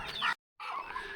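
Chickens clucking on a farm, close and clear, a short run of clucks broken by a brief silent gap, then more steady clucking.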